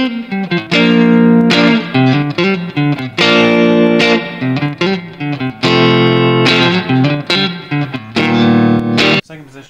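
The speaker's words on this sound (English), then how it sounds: "I have a little bit of reverb on. It's going into my Catalyst 60. This is the neck pickup" Electric guitar played on the neck pickup through a Catalyst 60 amp with a little reverb, loud strummed chords in bursts with short gaps between them and ringing sustain, no talking.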